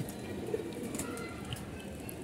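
A female pigeon coos quietly, a short low murmuring call heard alone against faint background noise.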